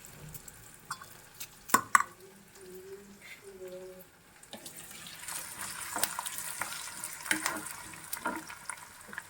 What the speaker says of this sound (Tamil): எல்லாம் போட்டு தாளித்து கொஞ்சம் உப்பு பொங்கலில் போட்டுக்கணும்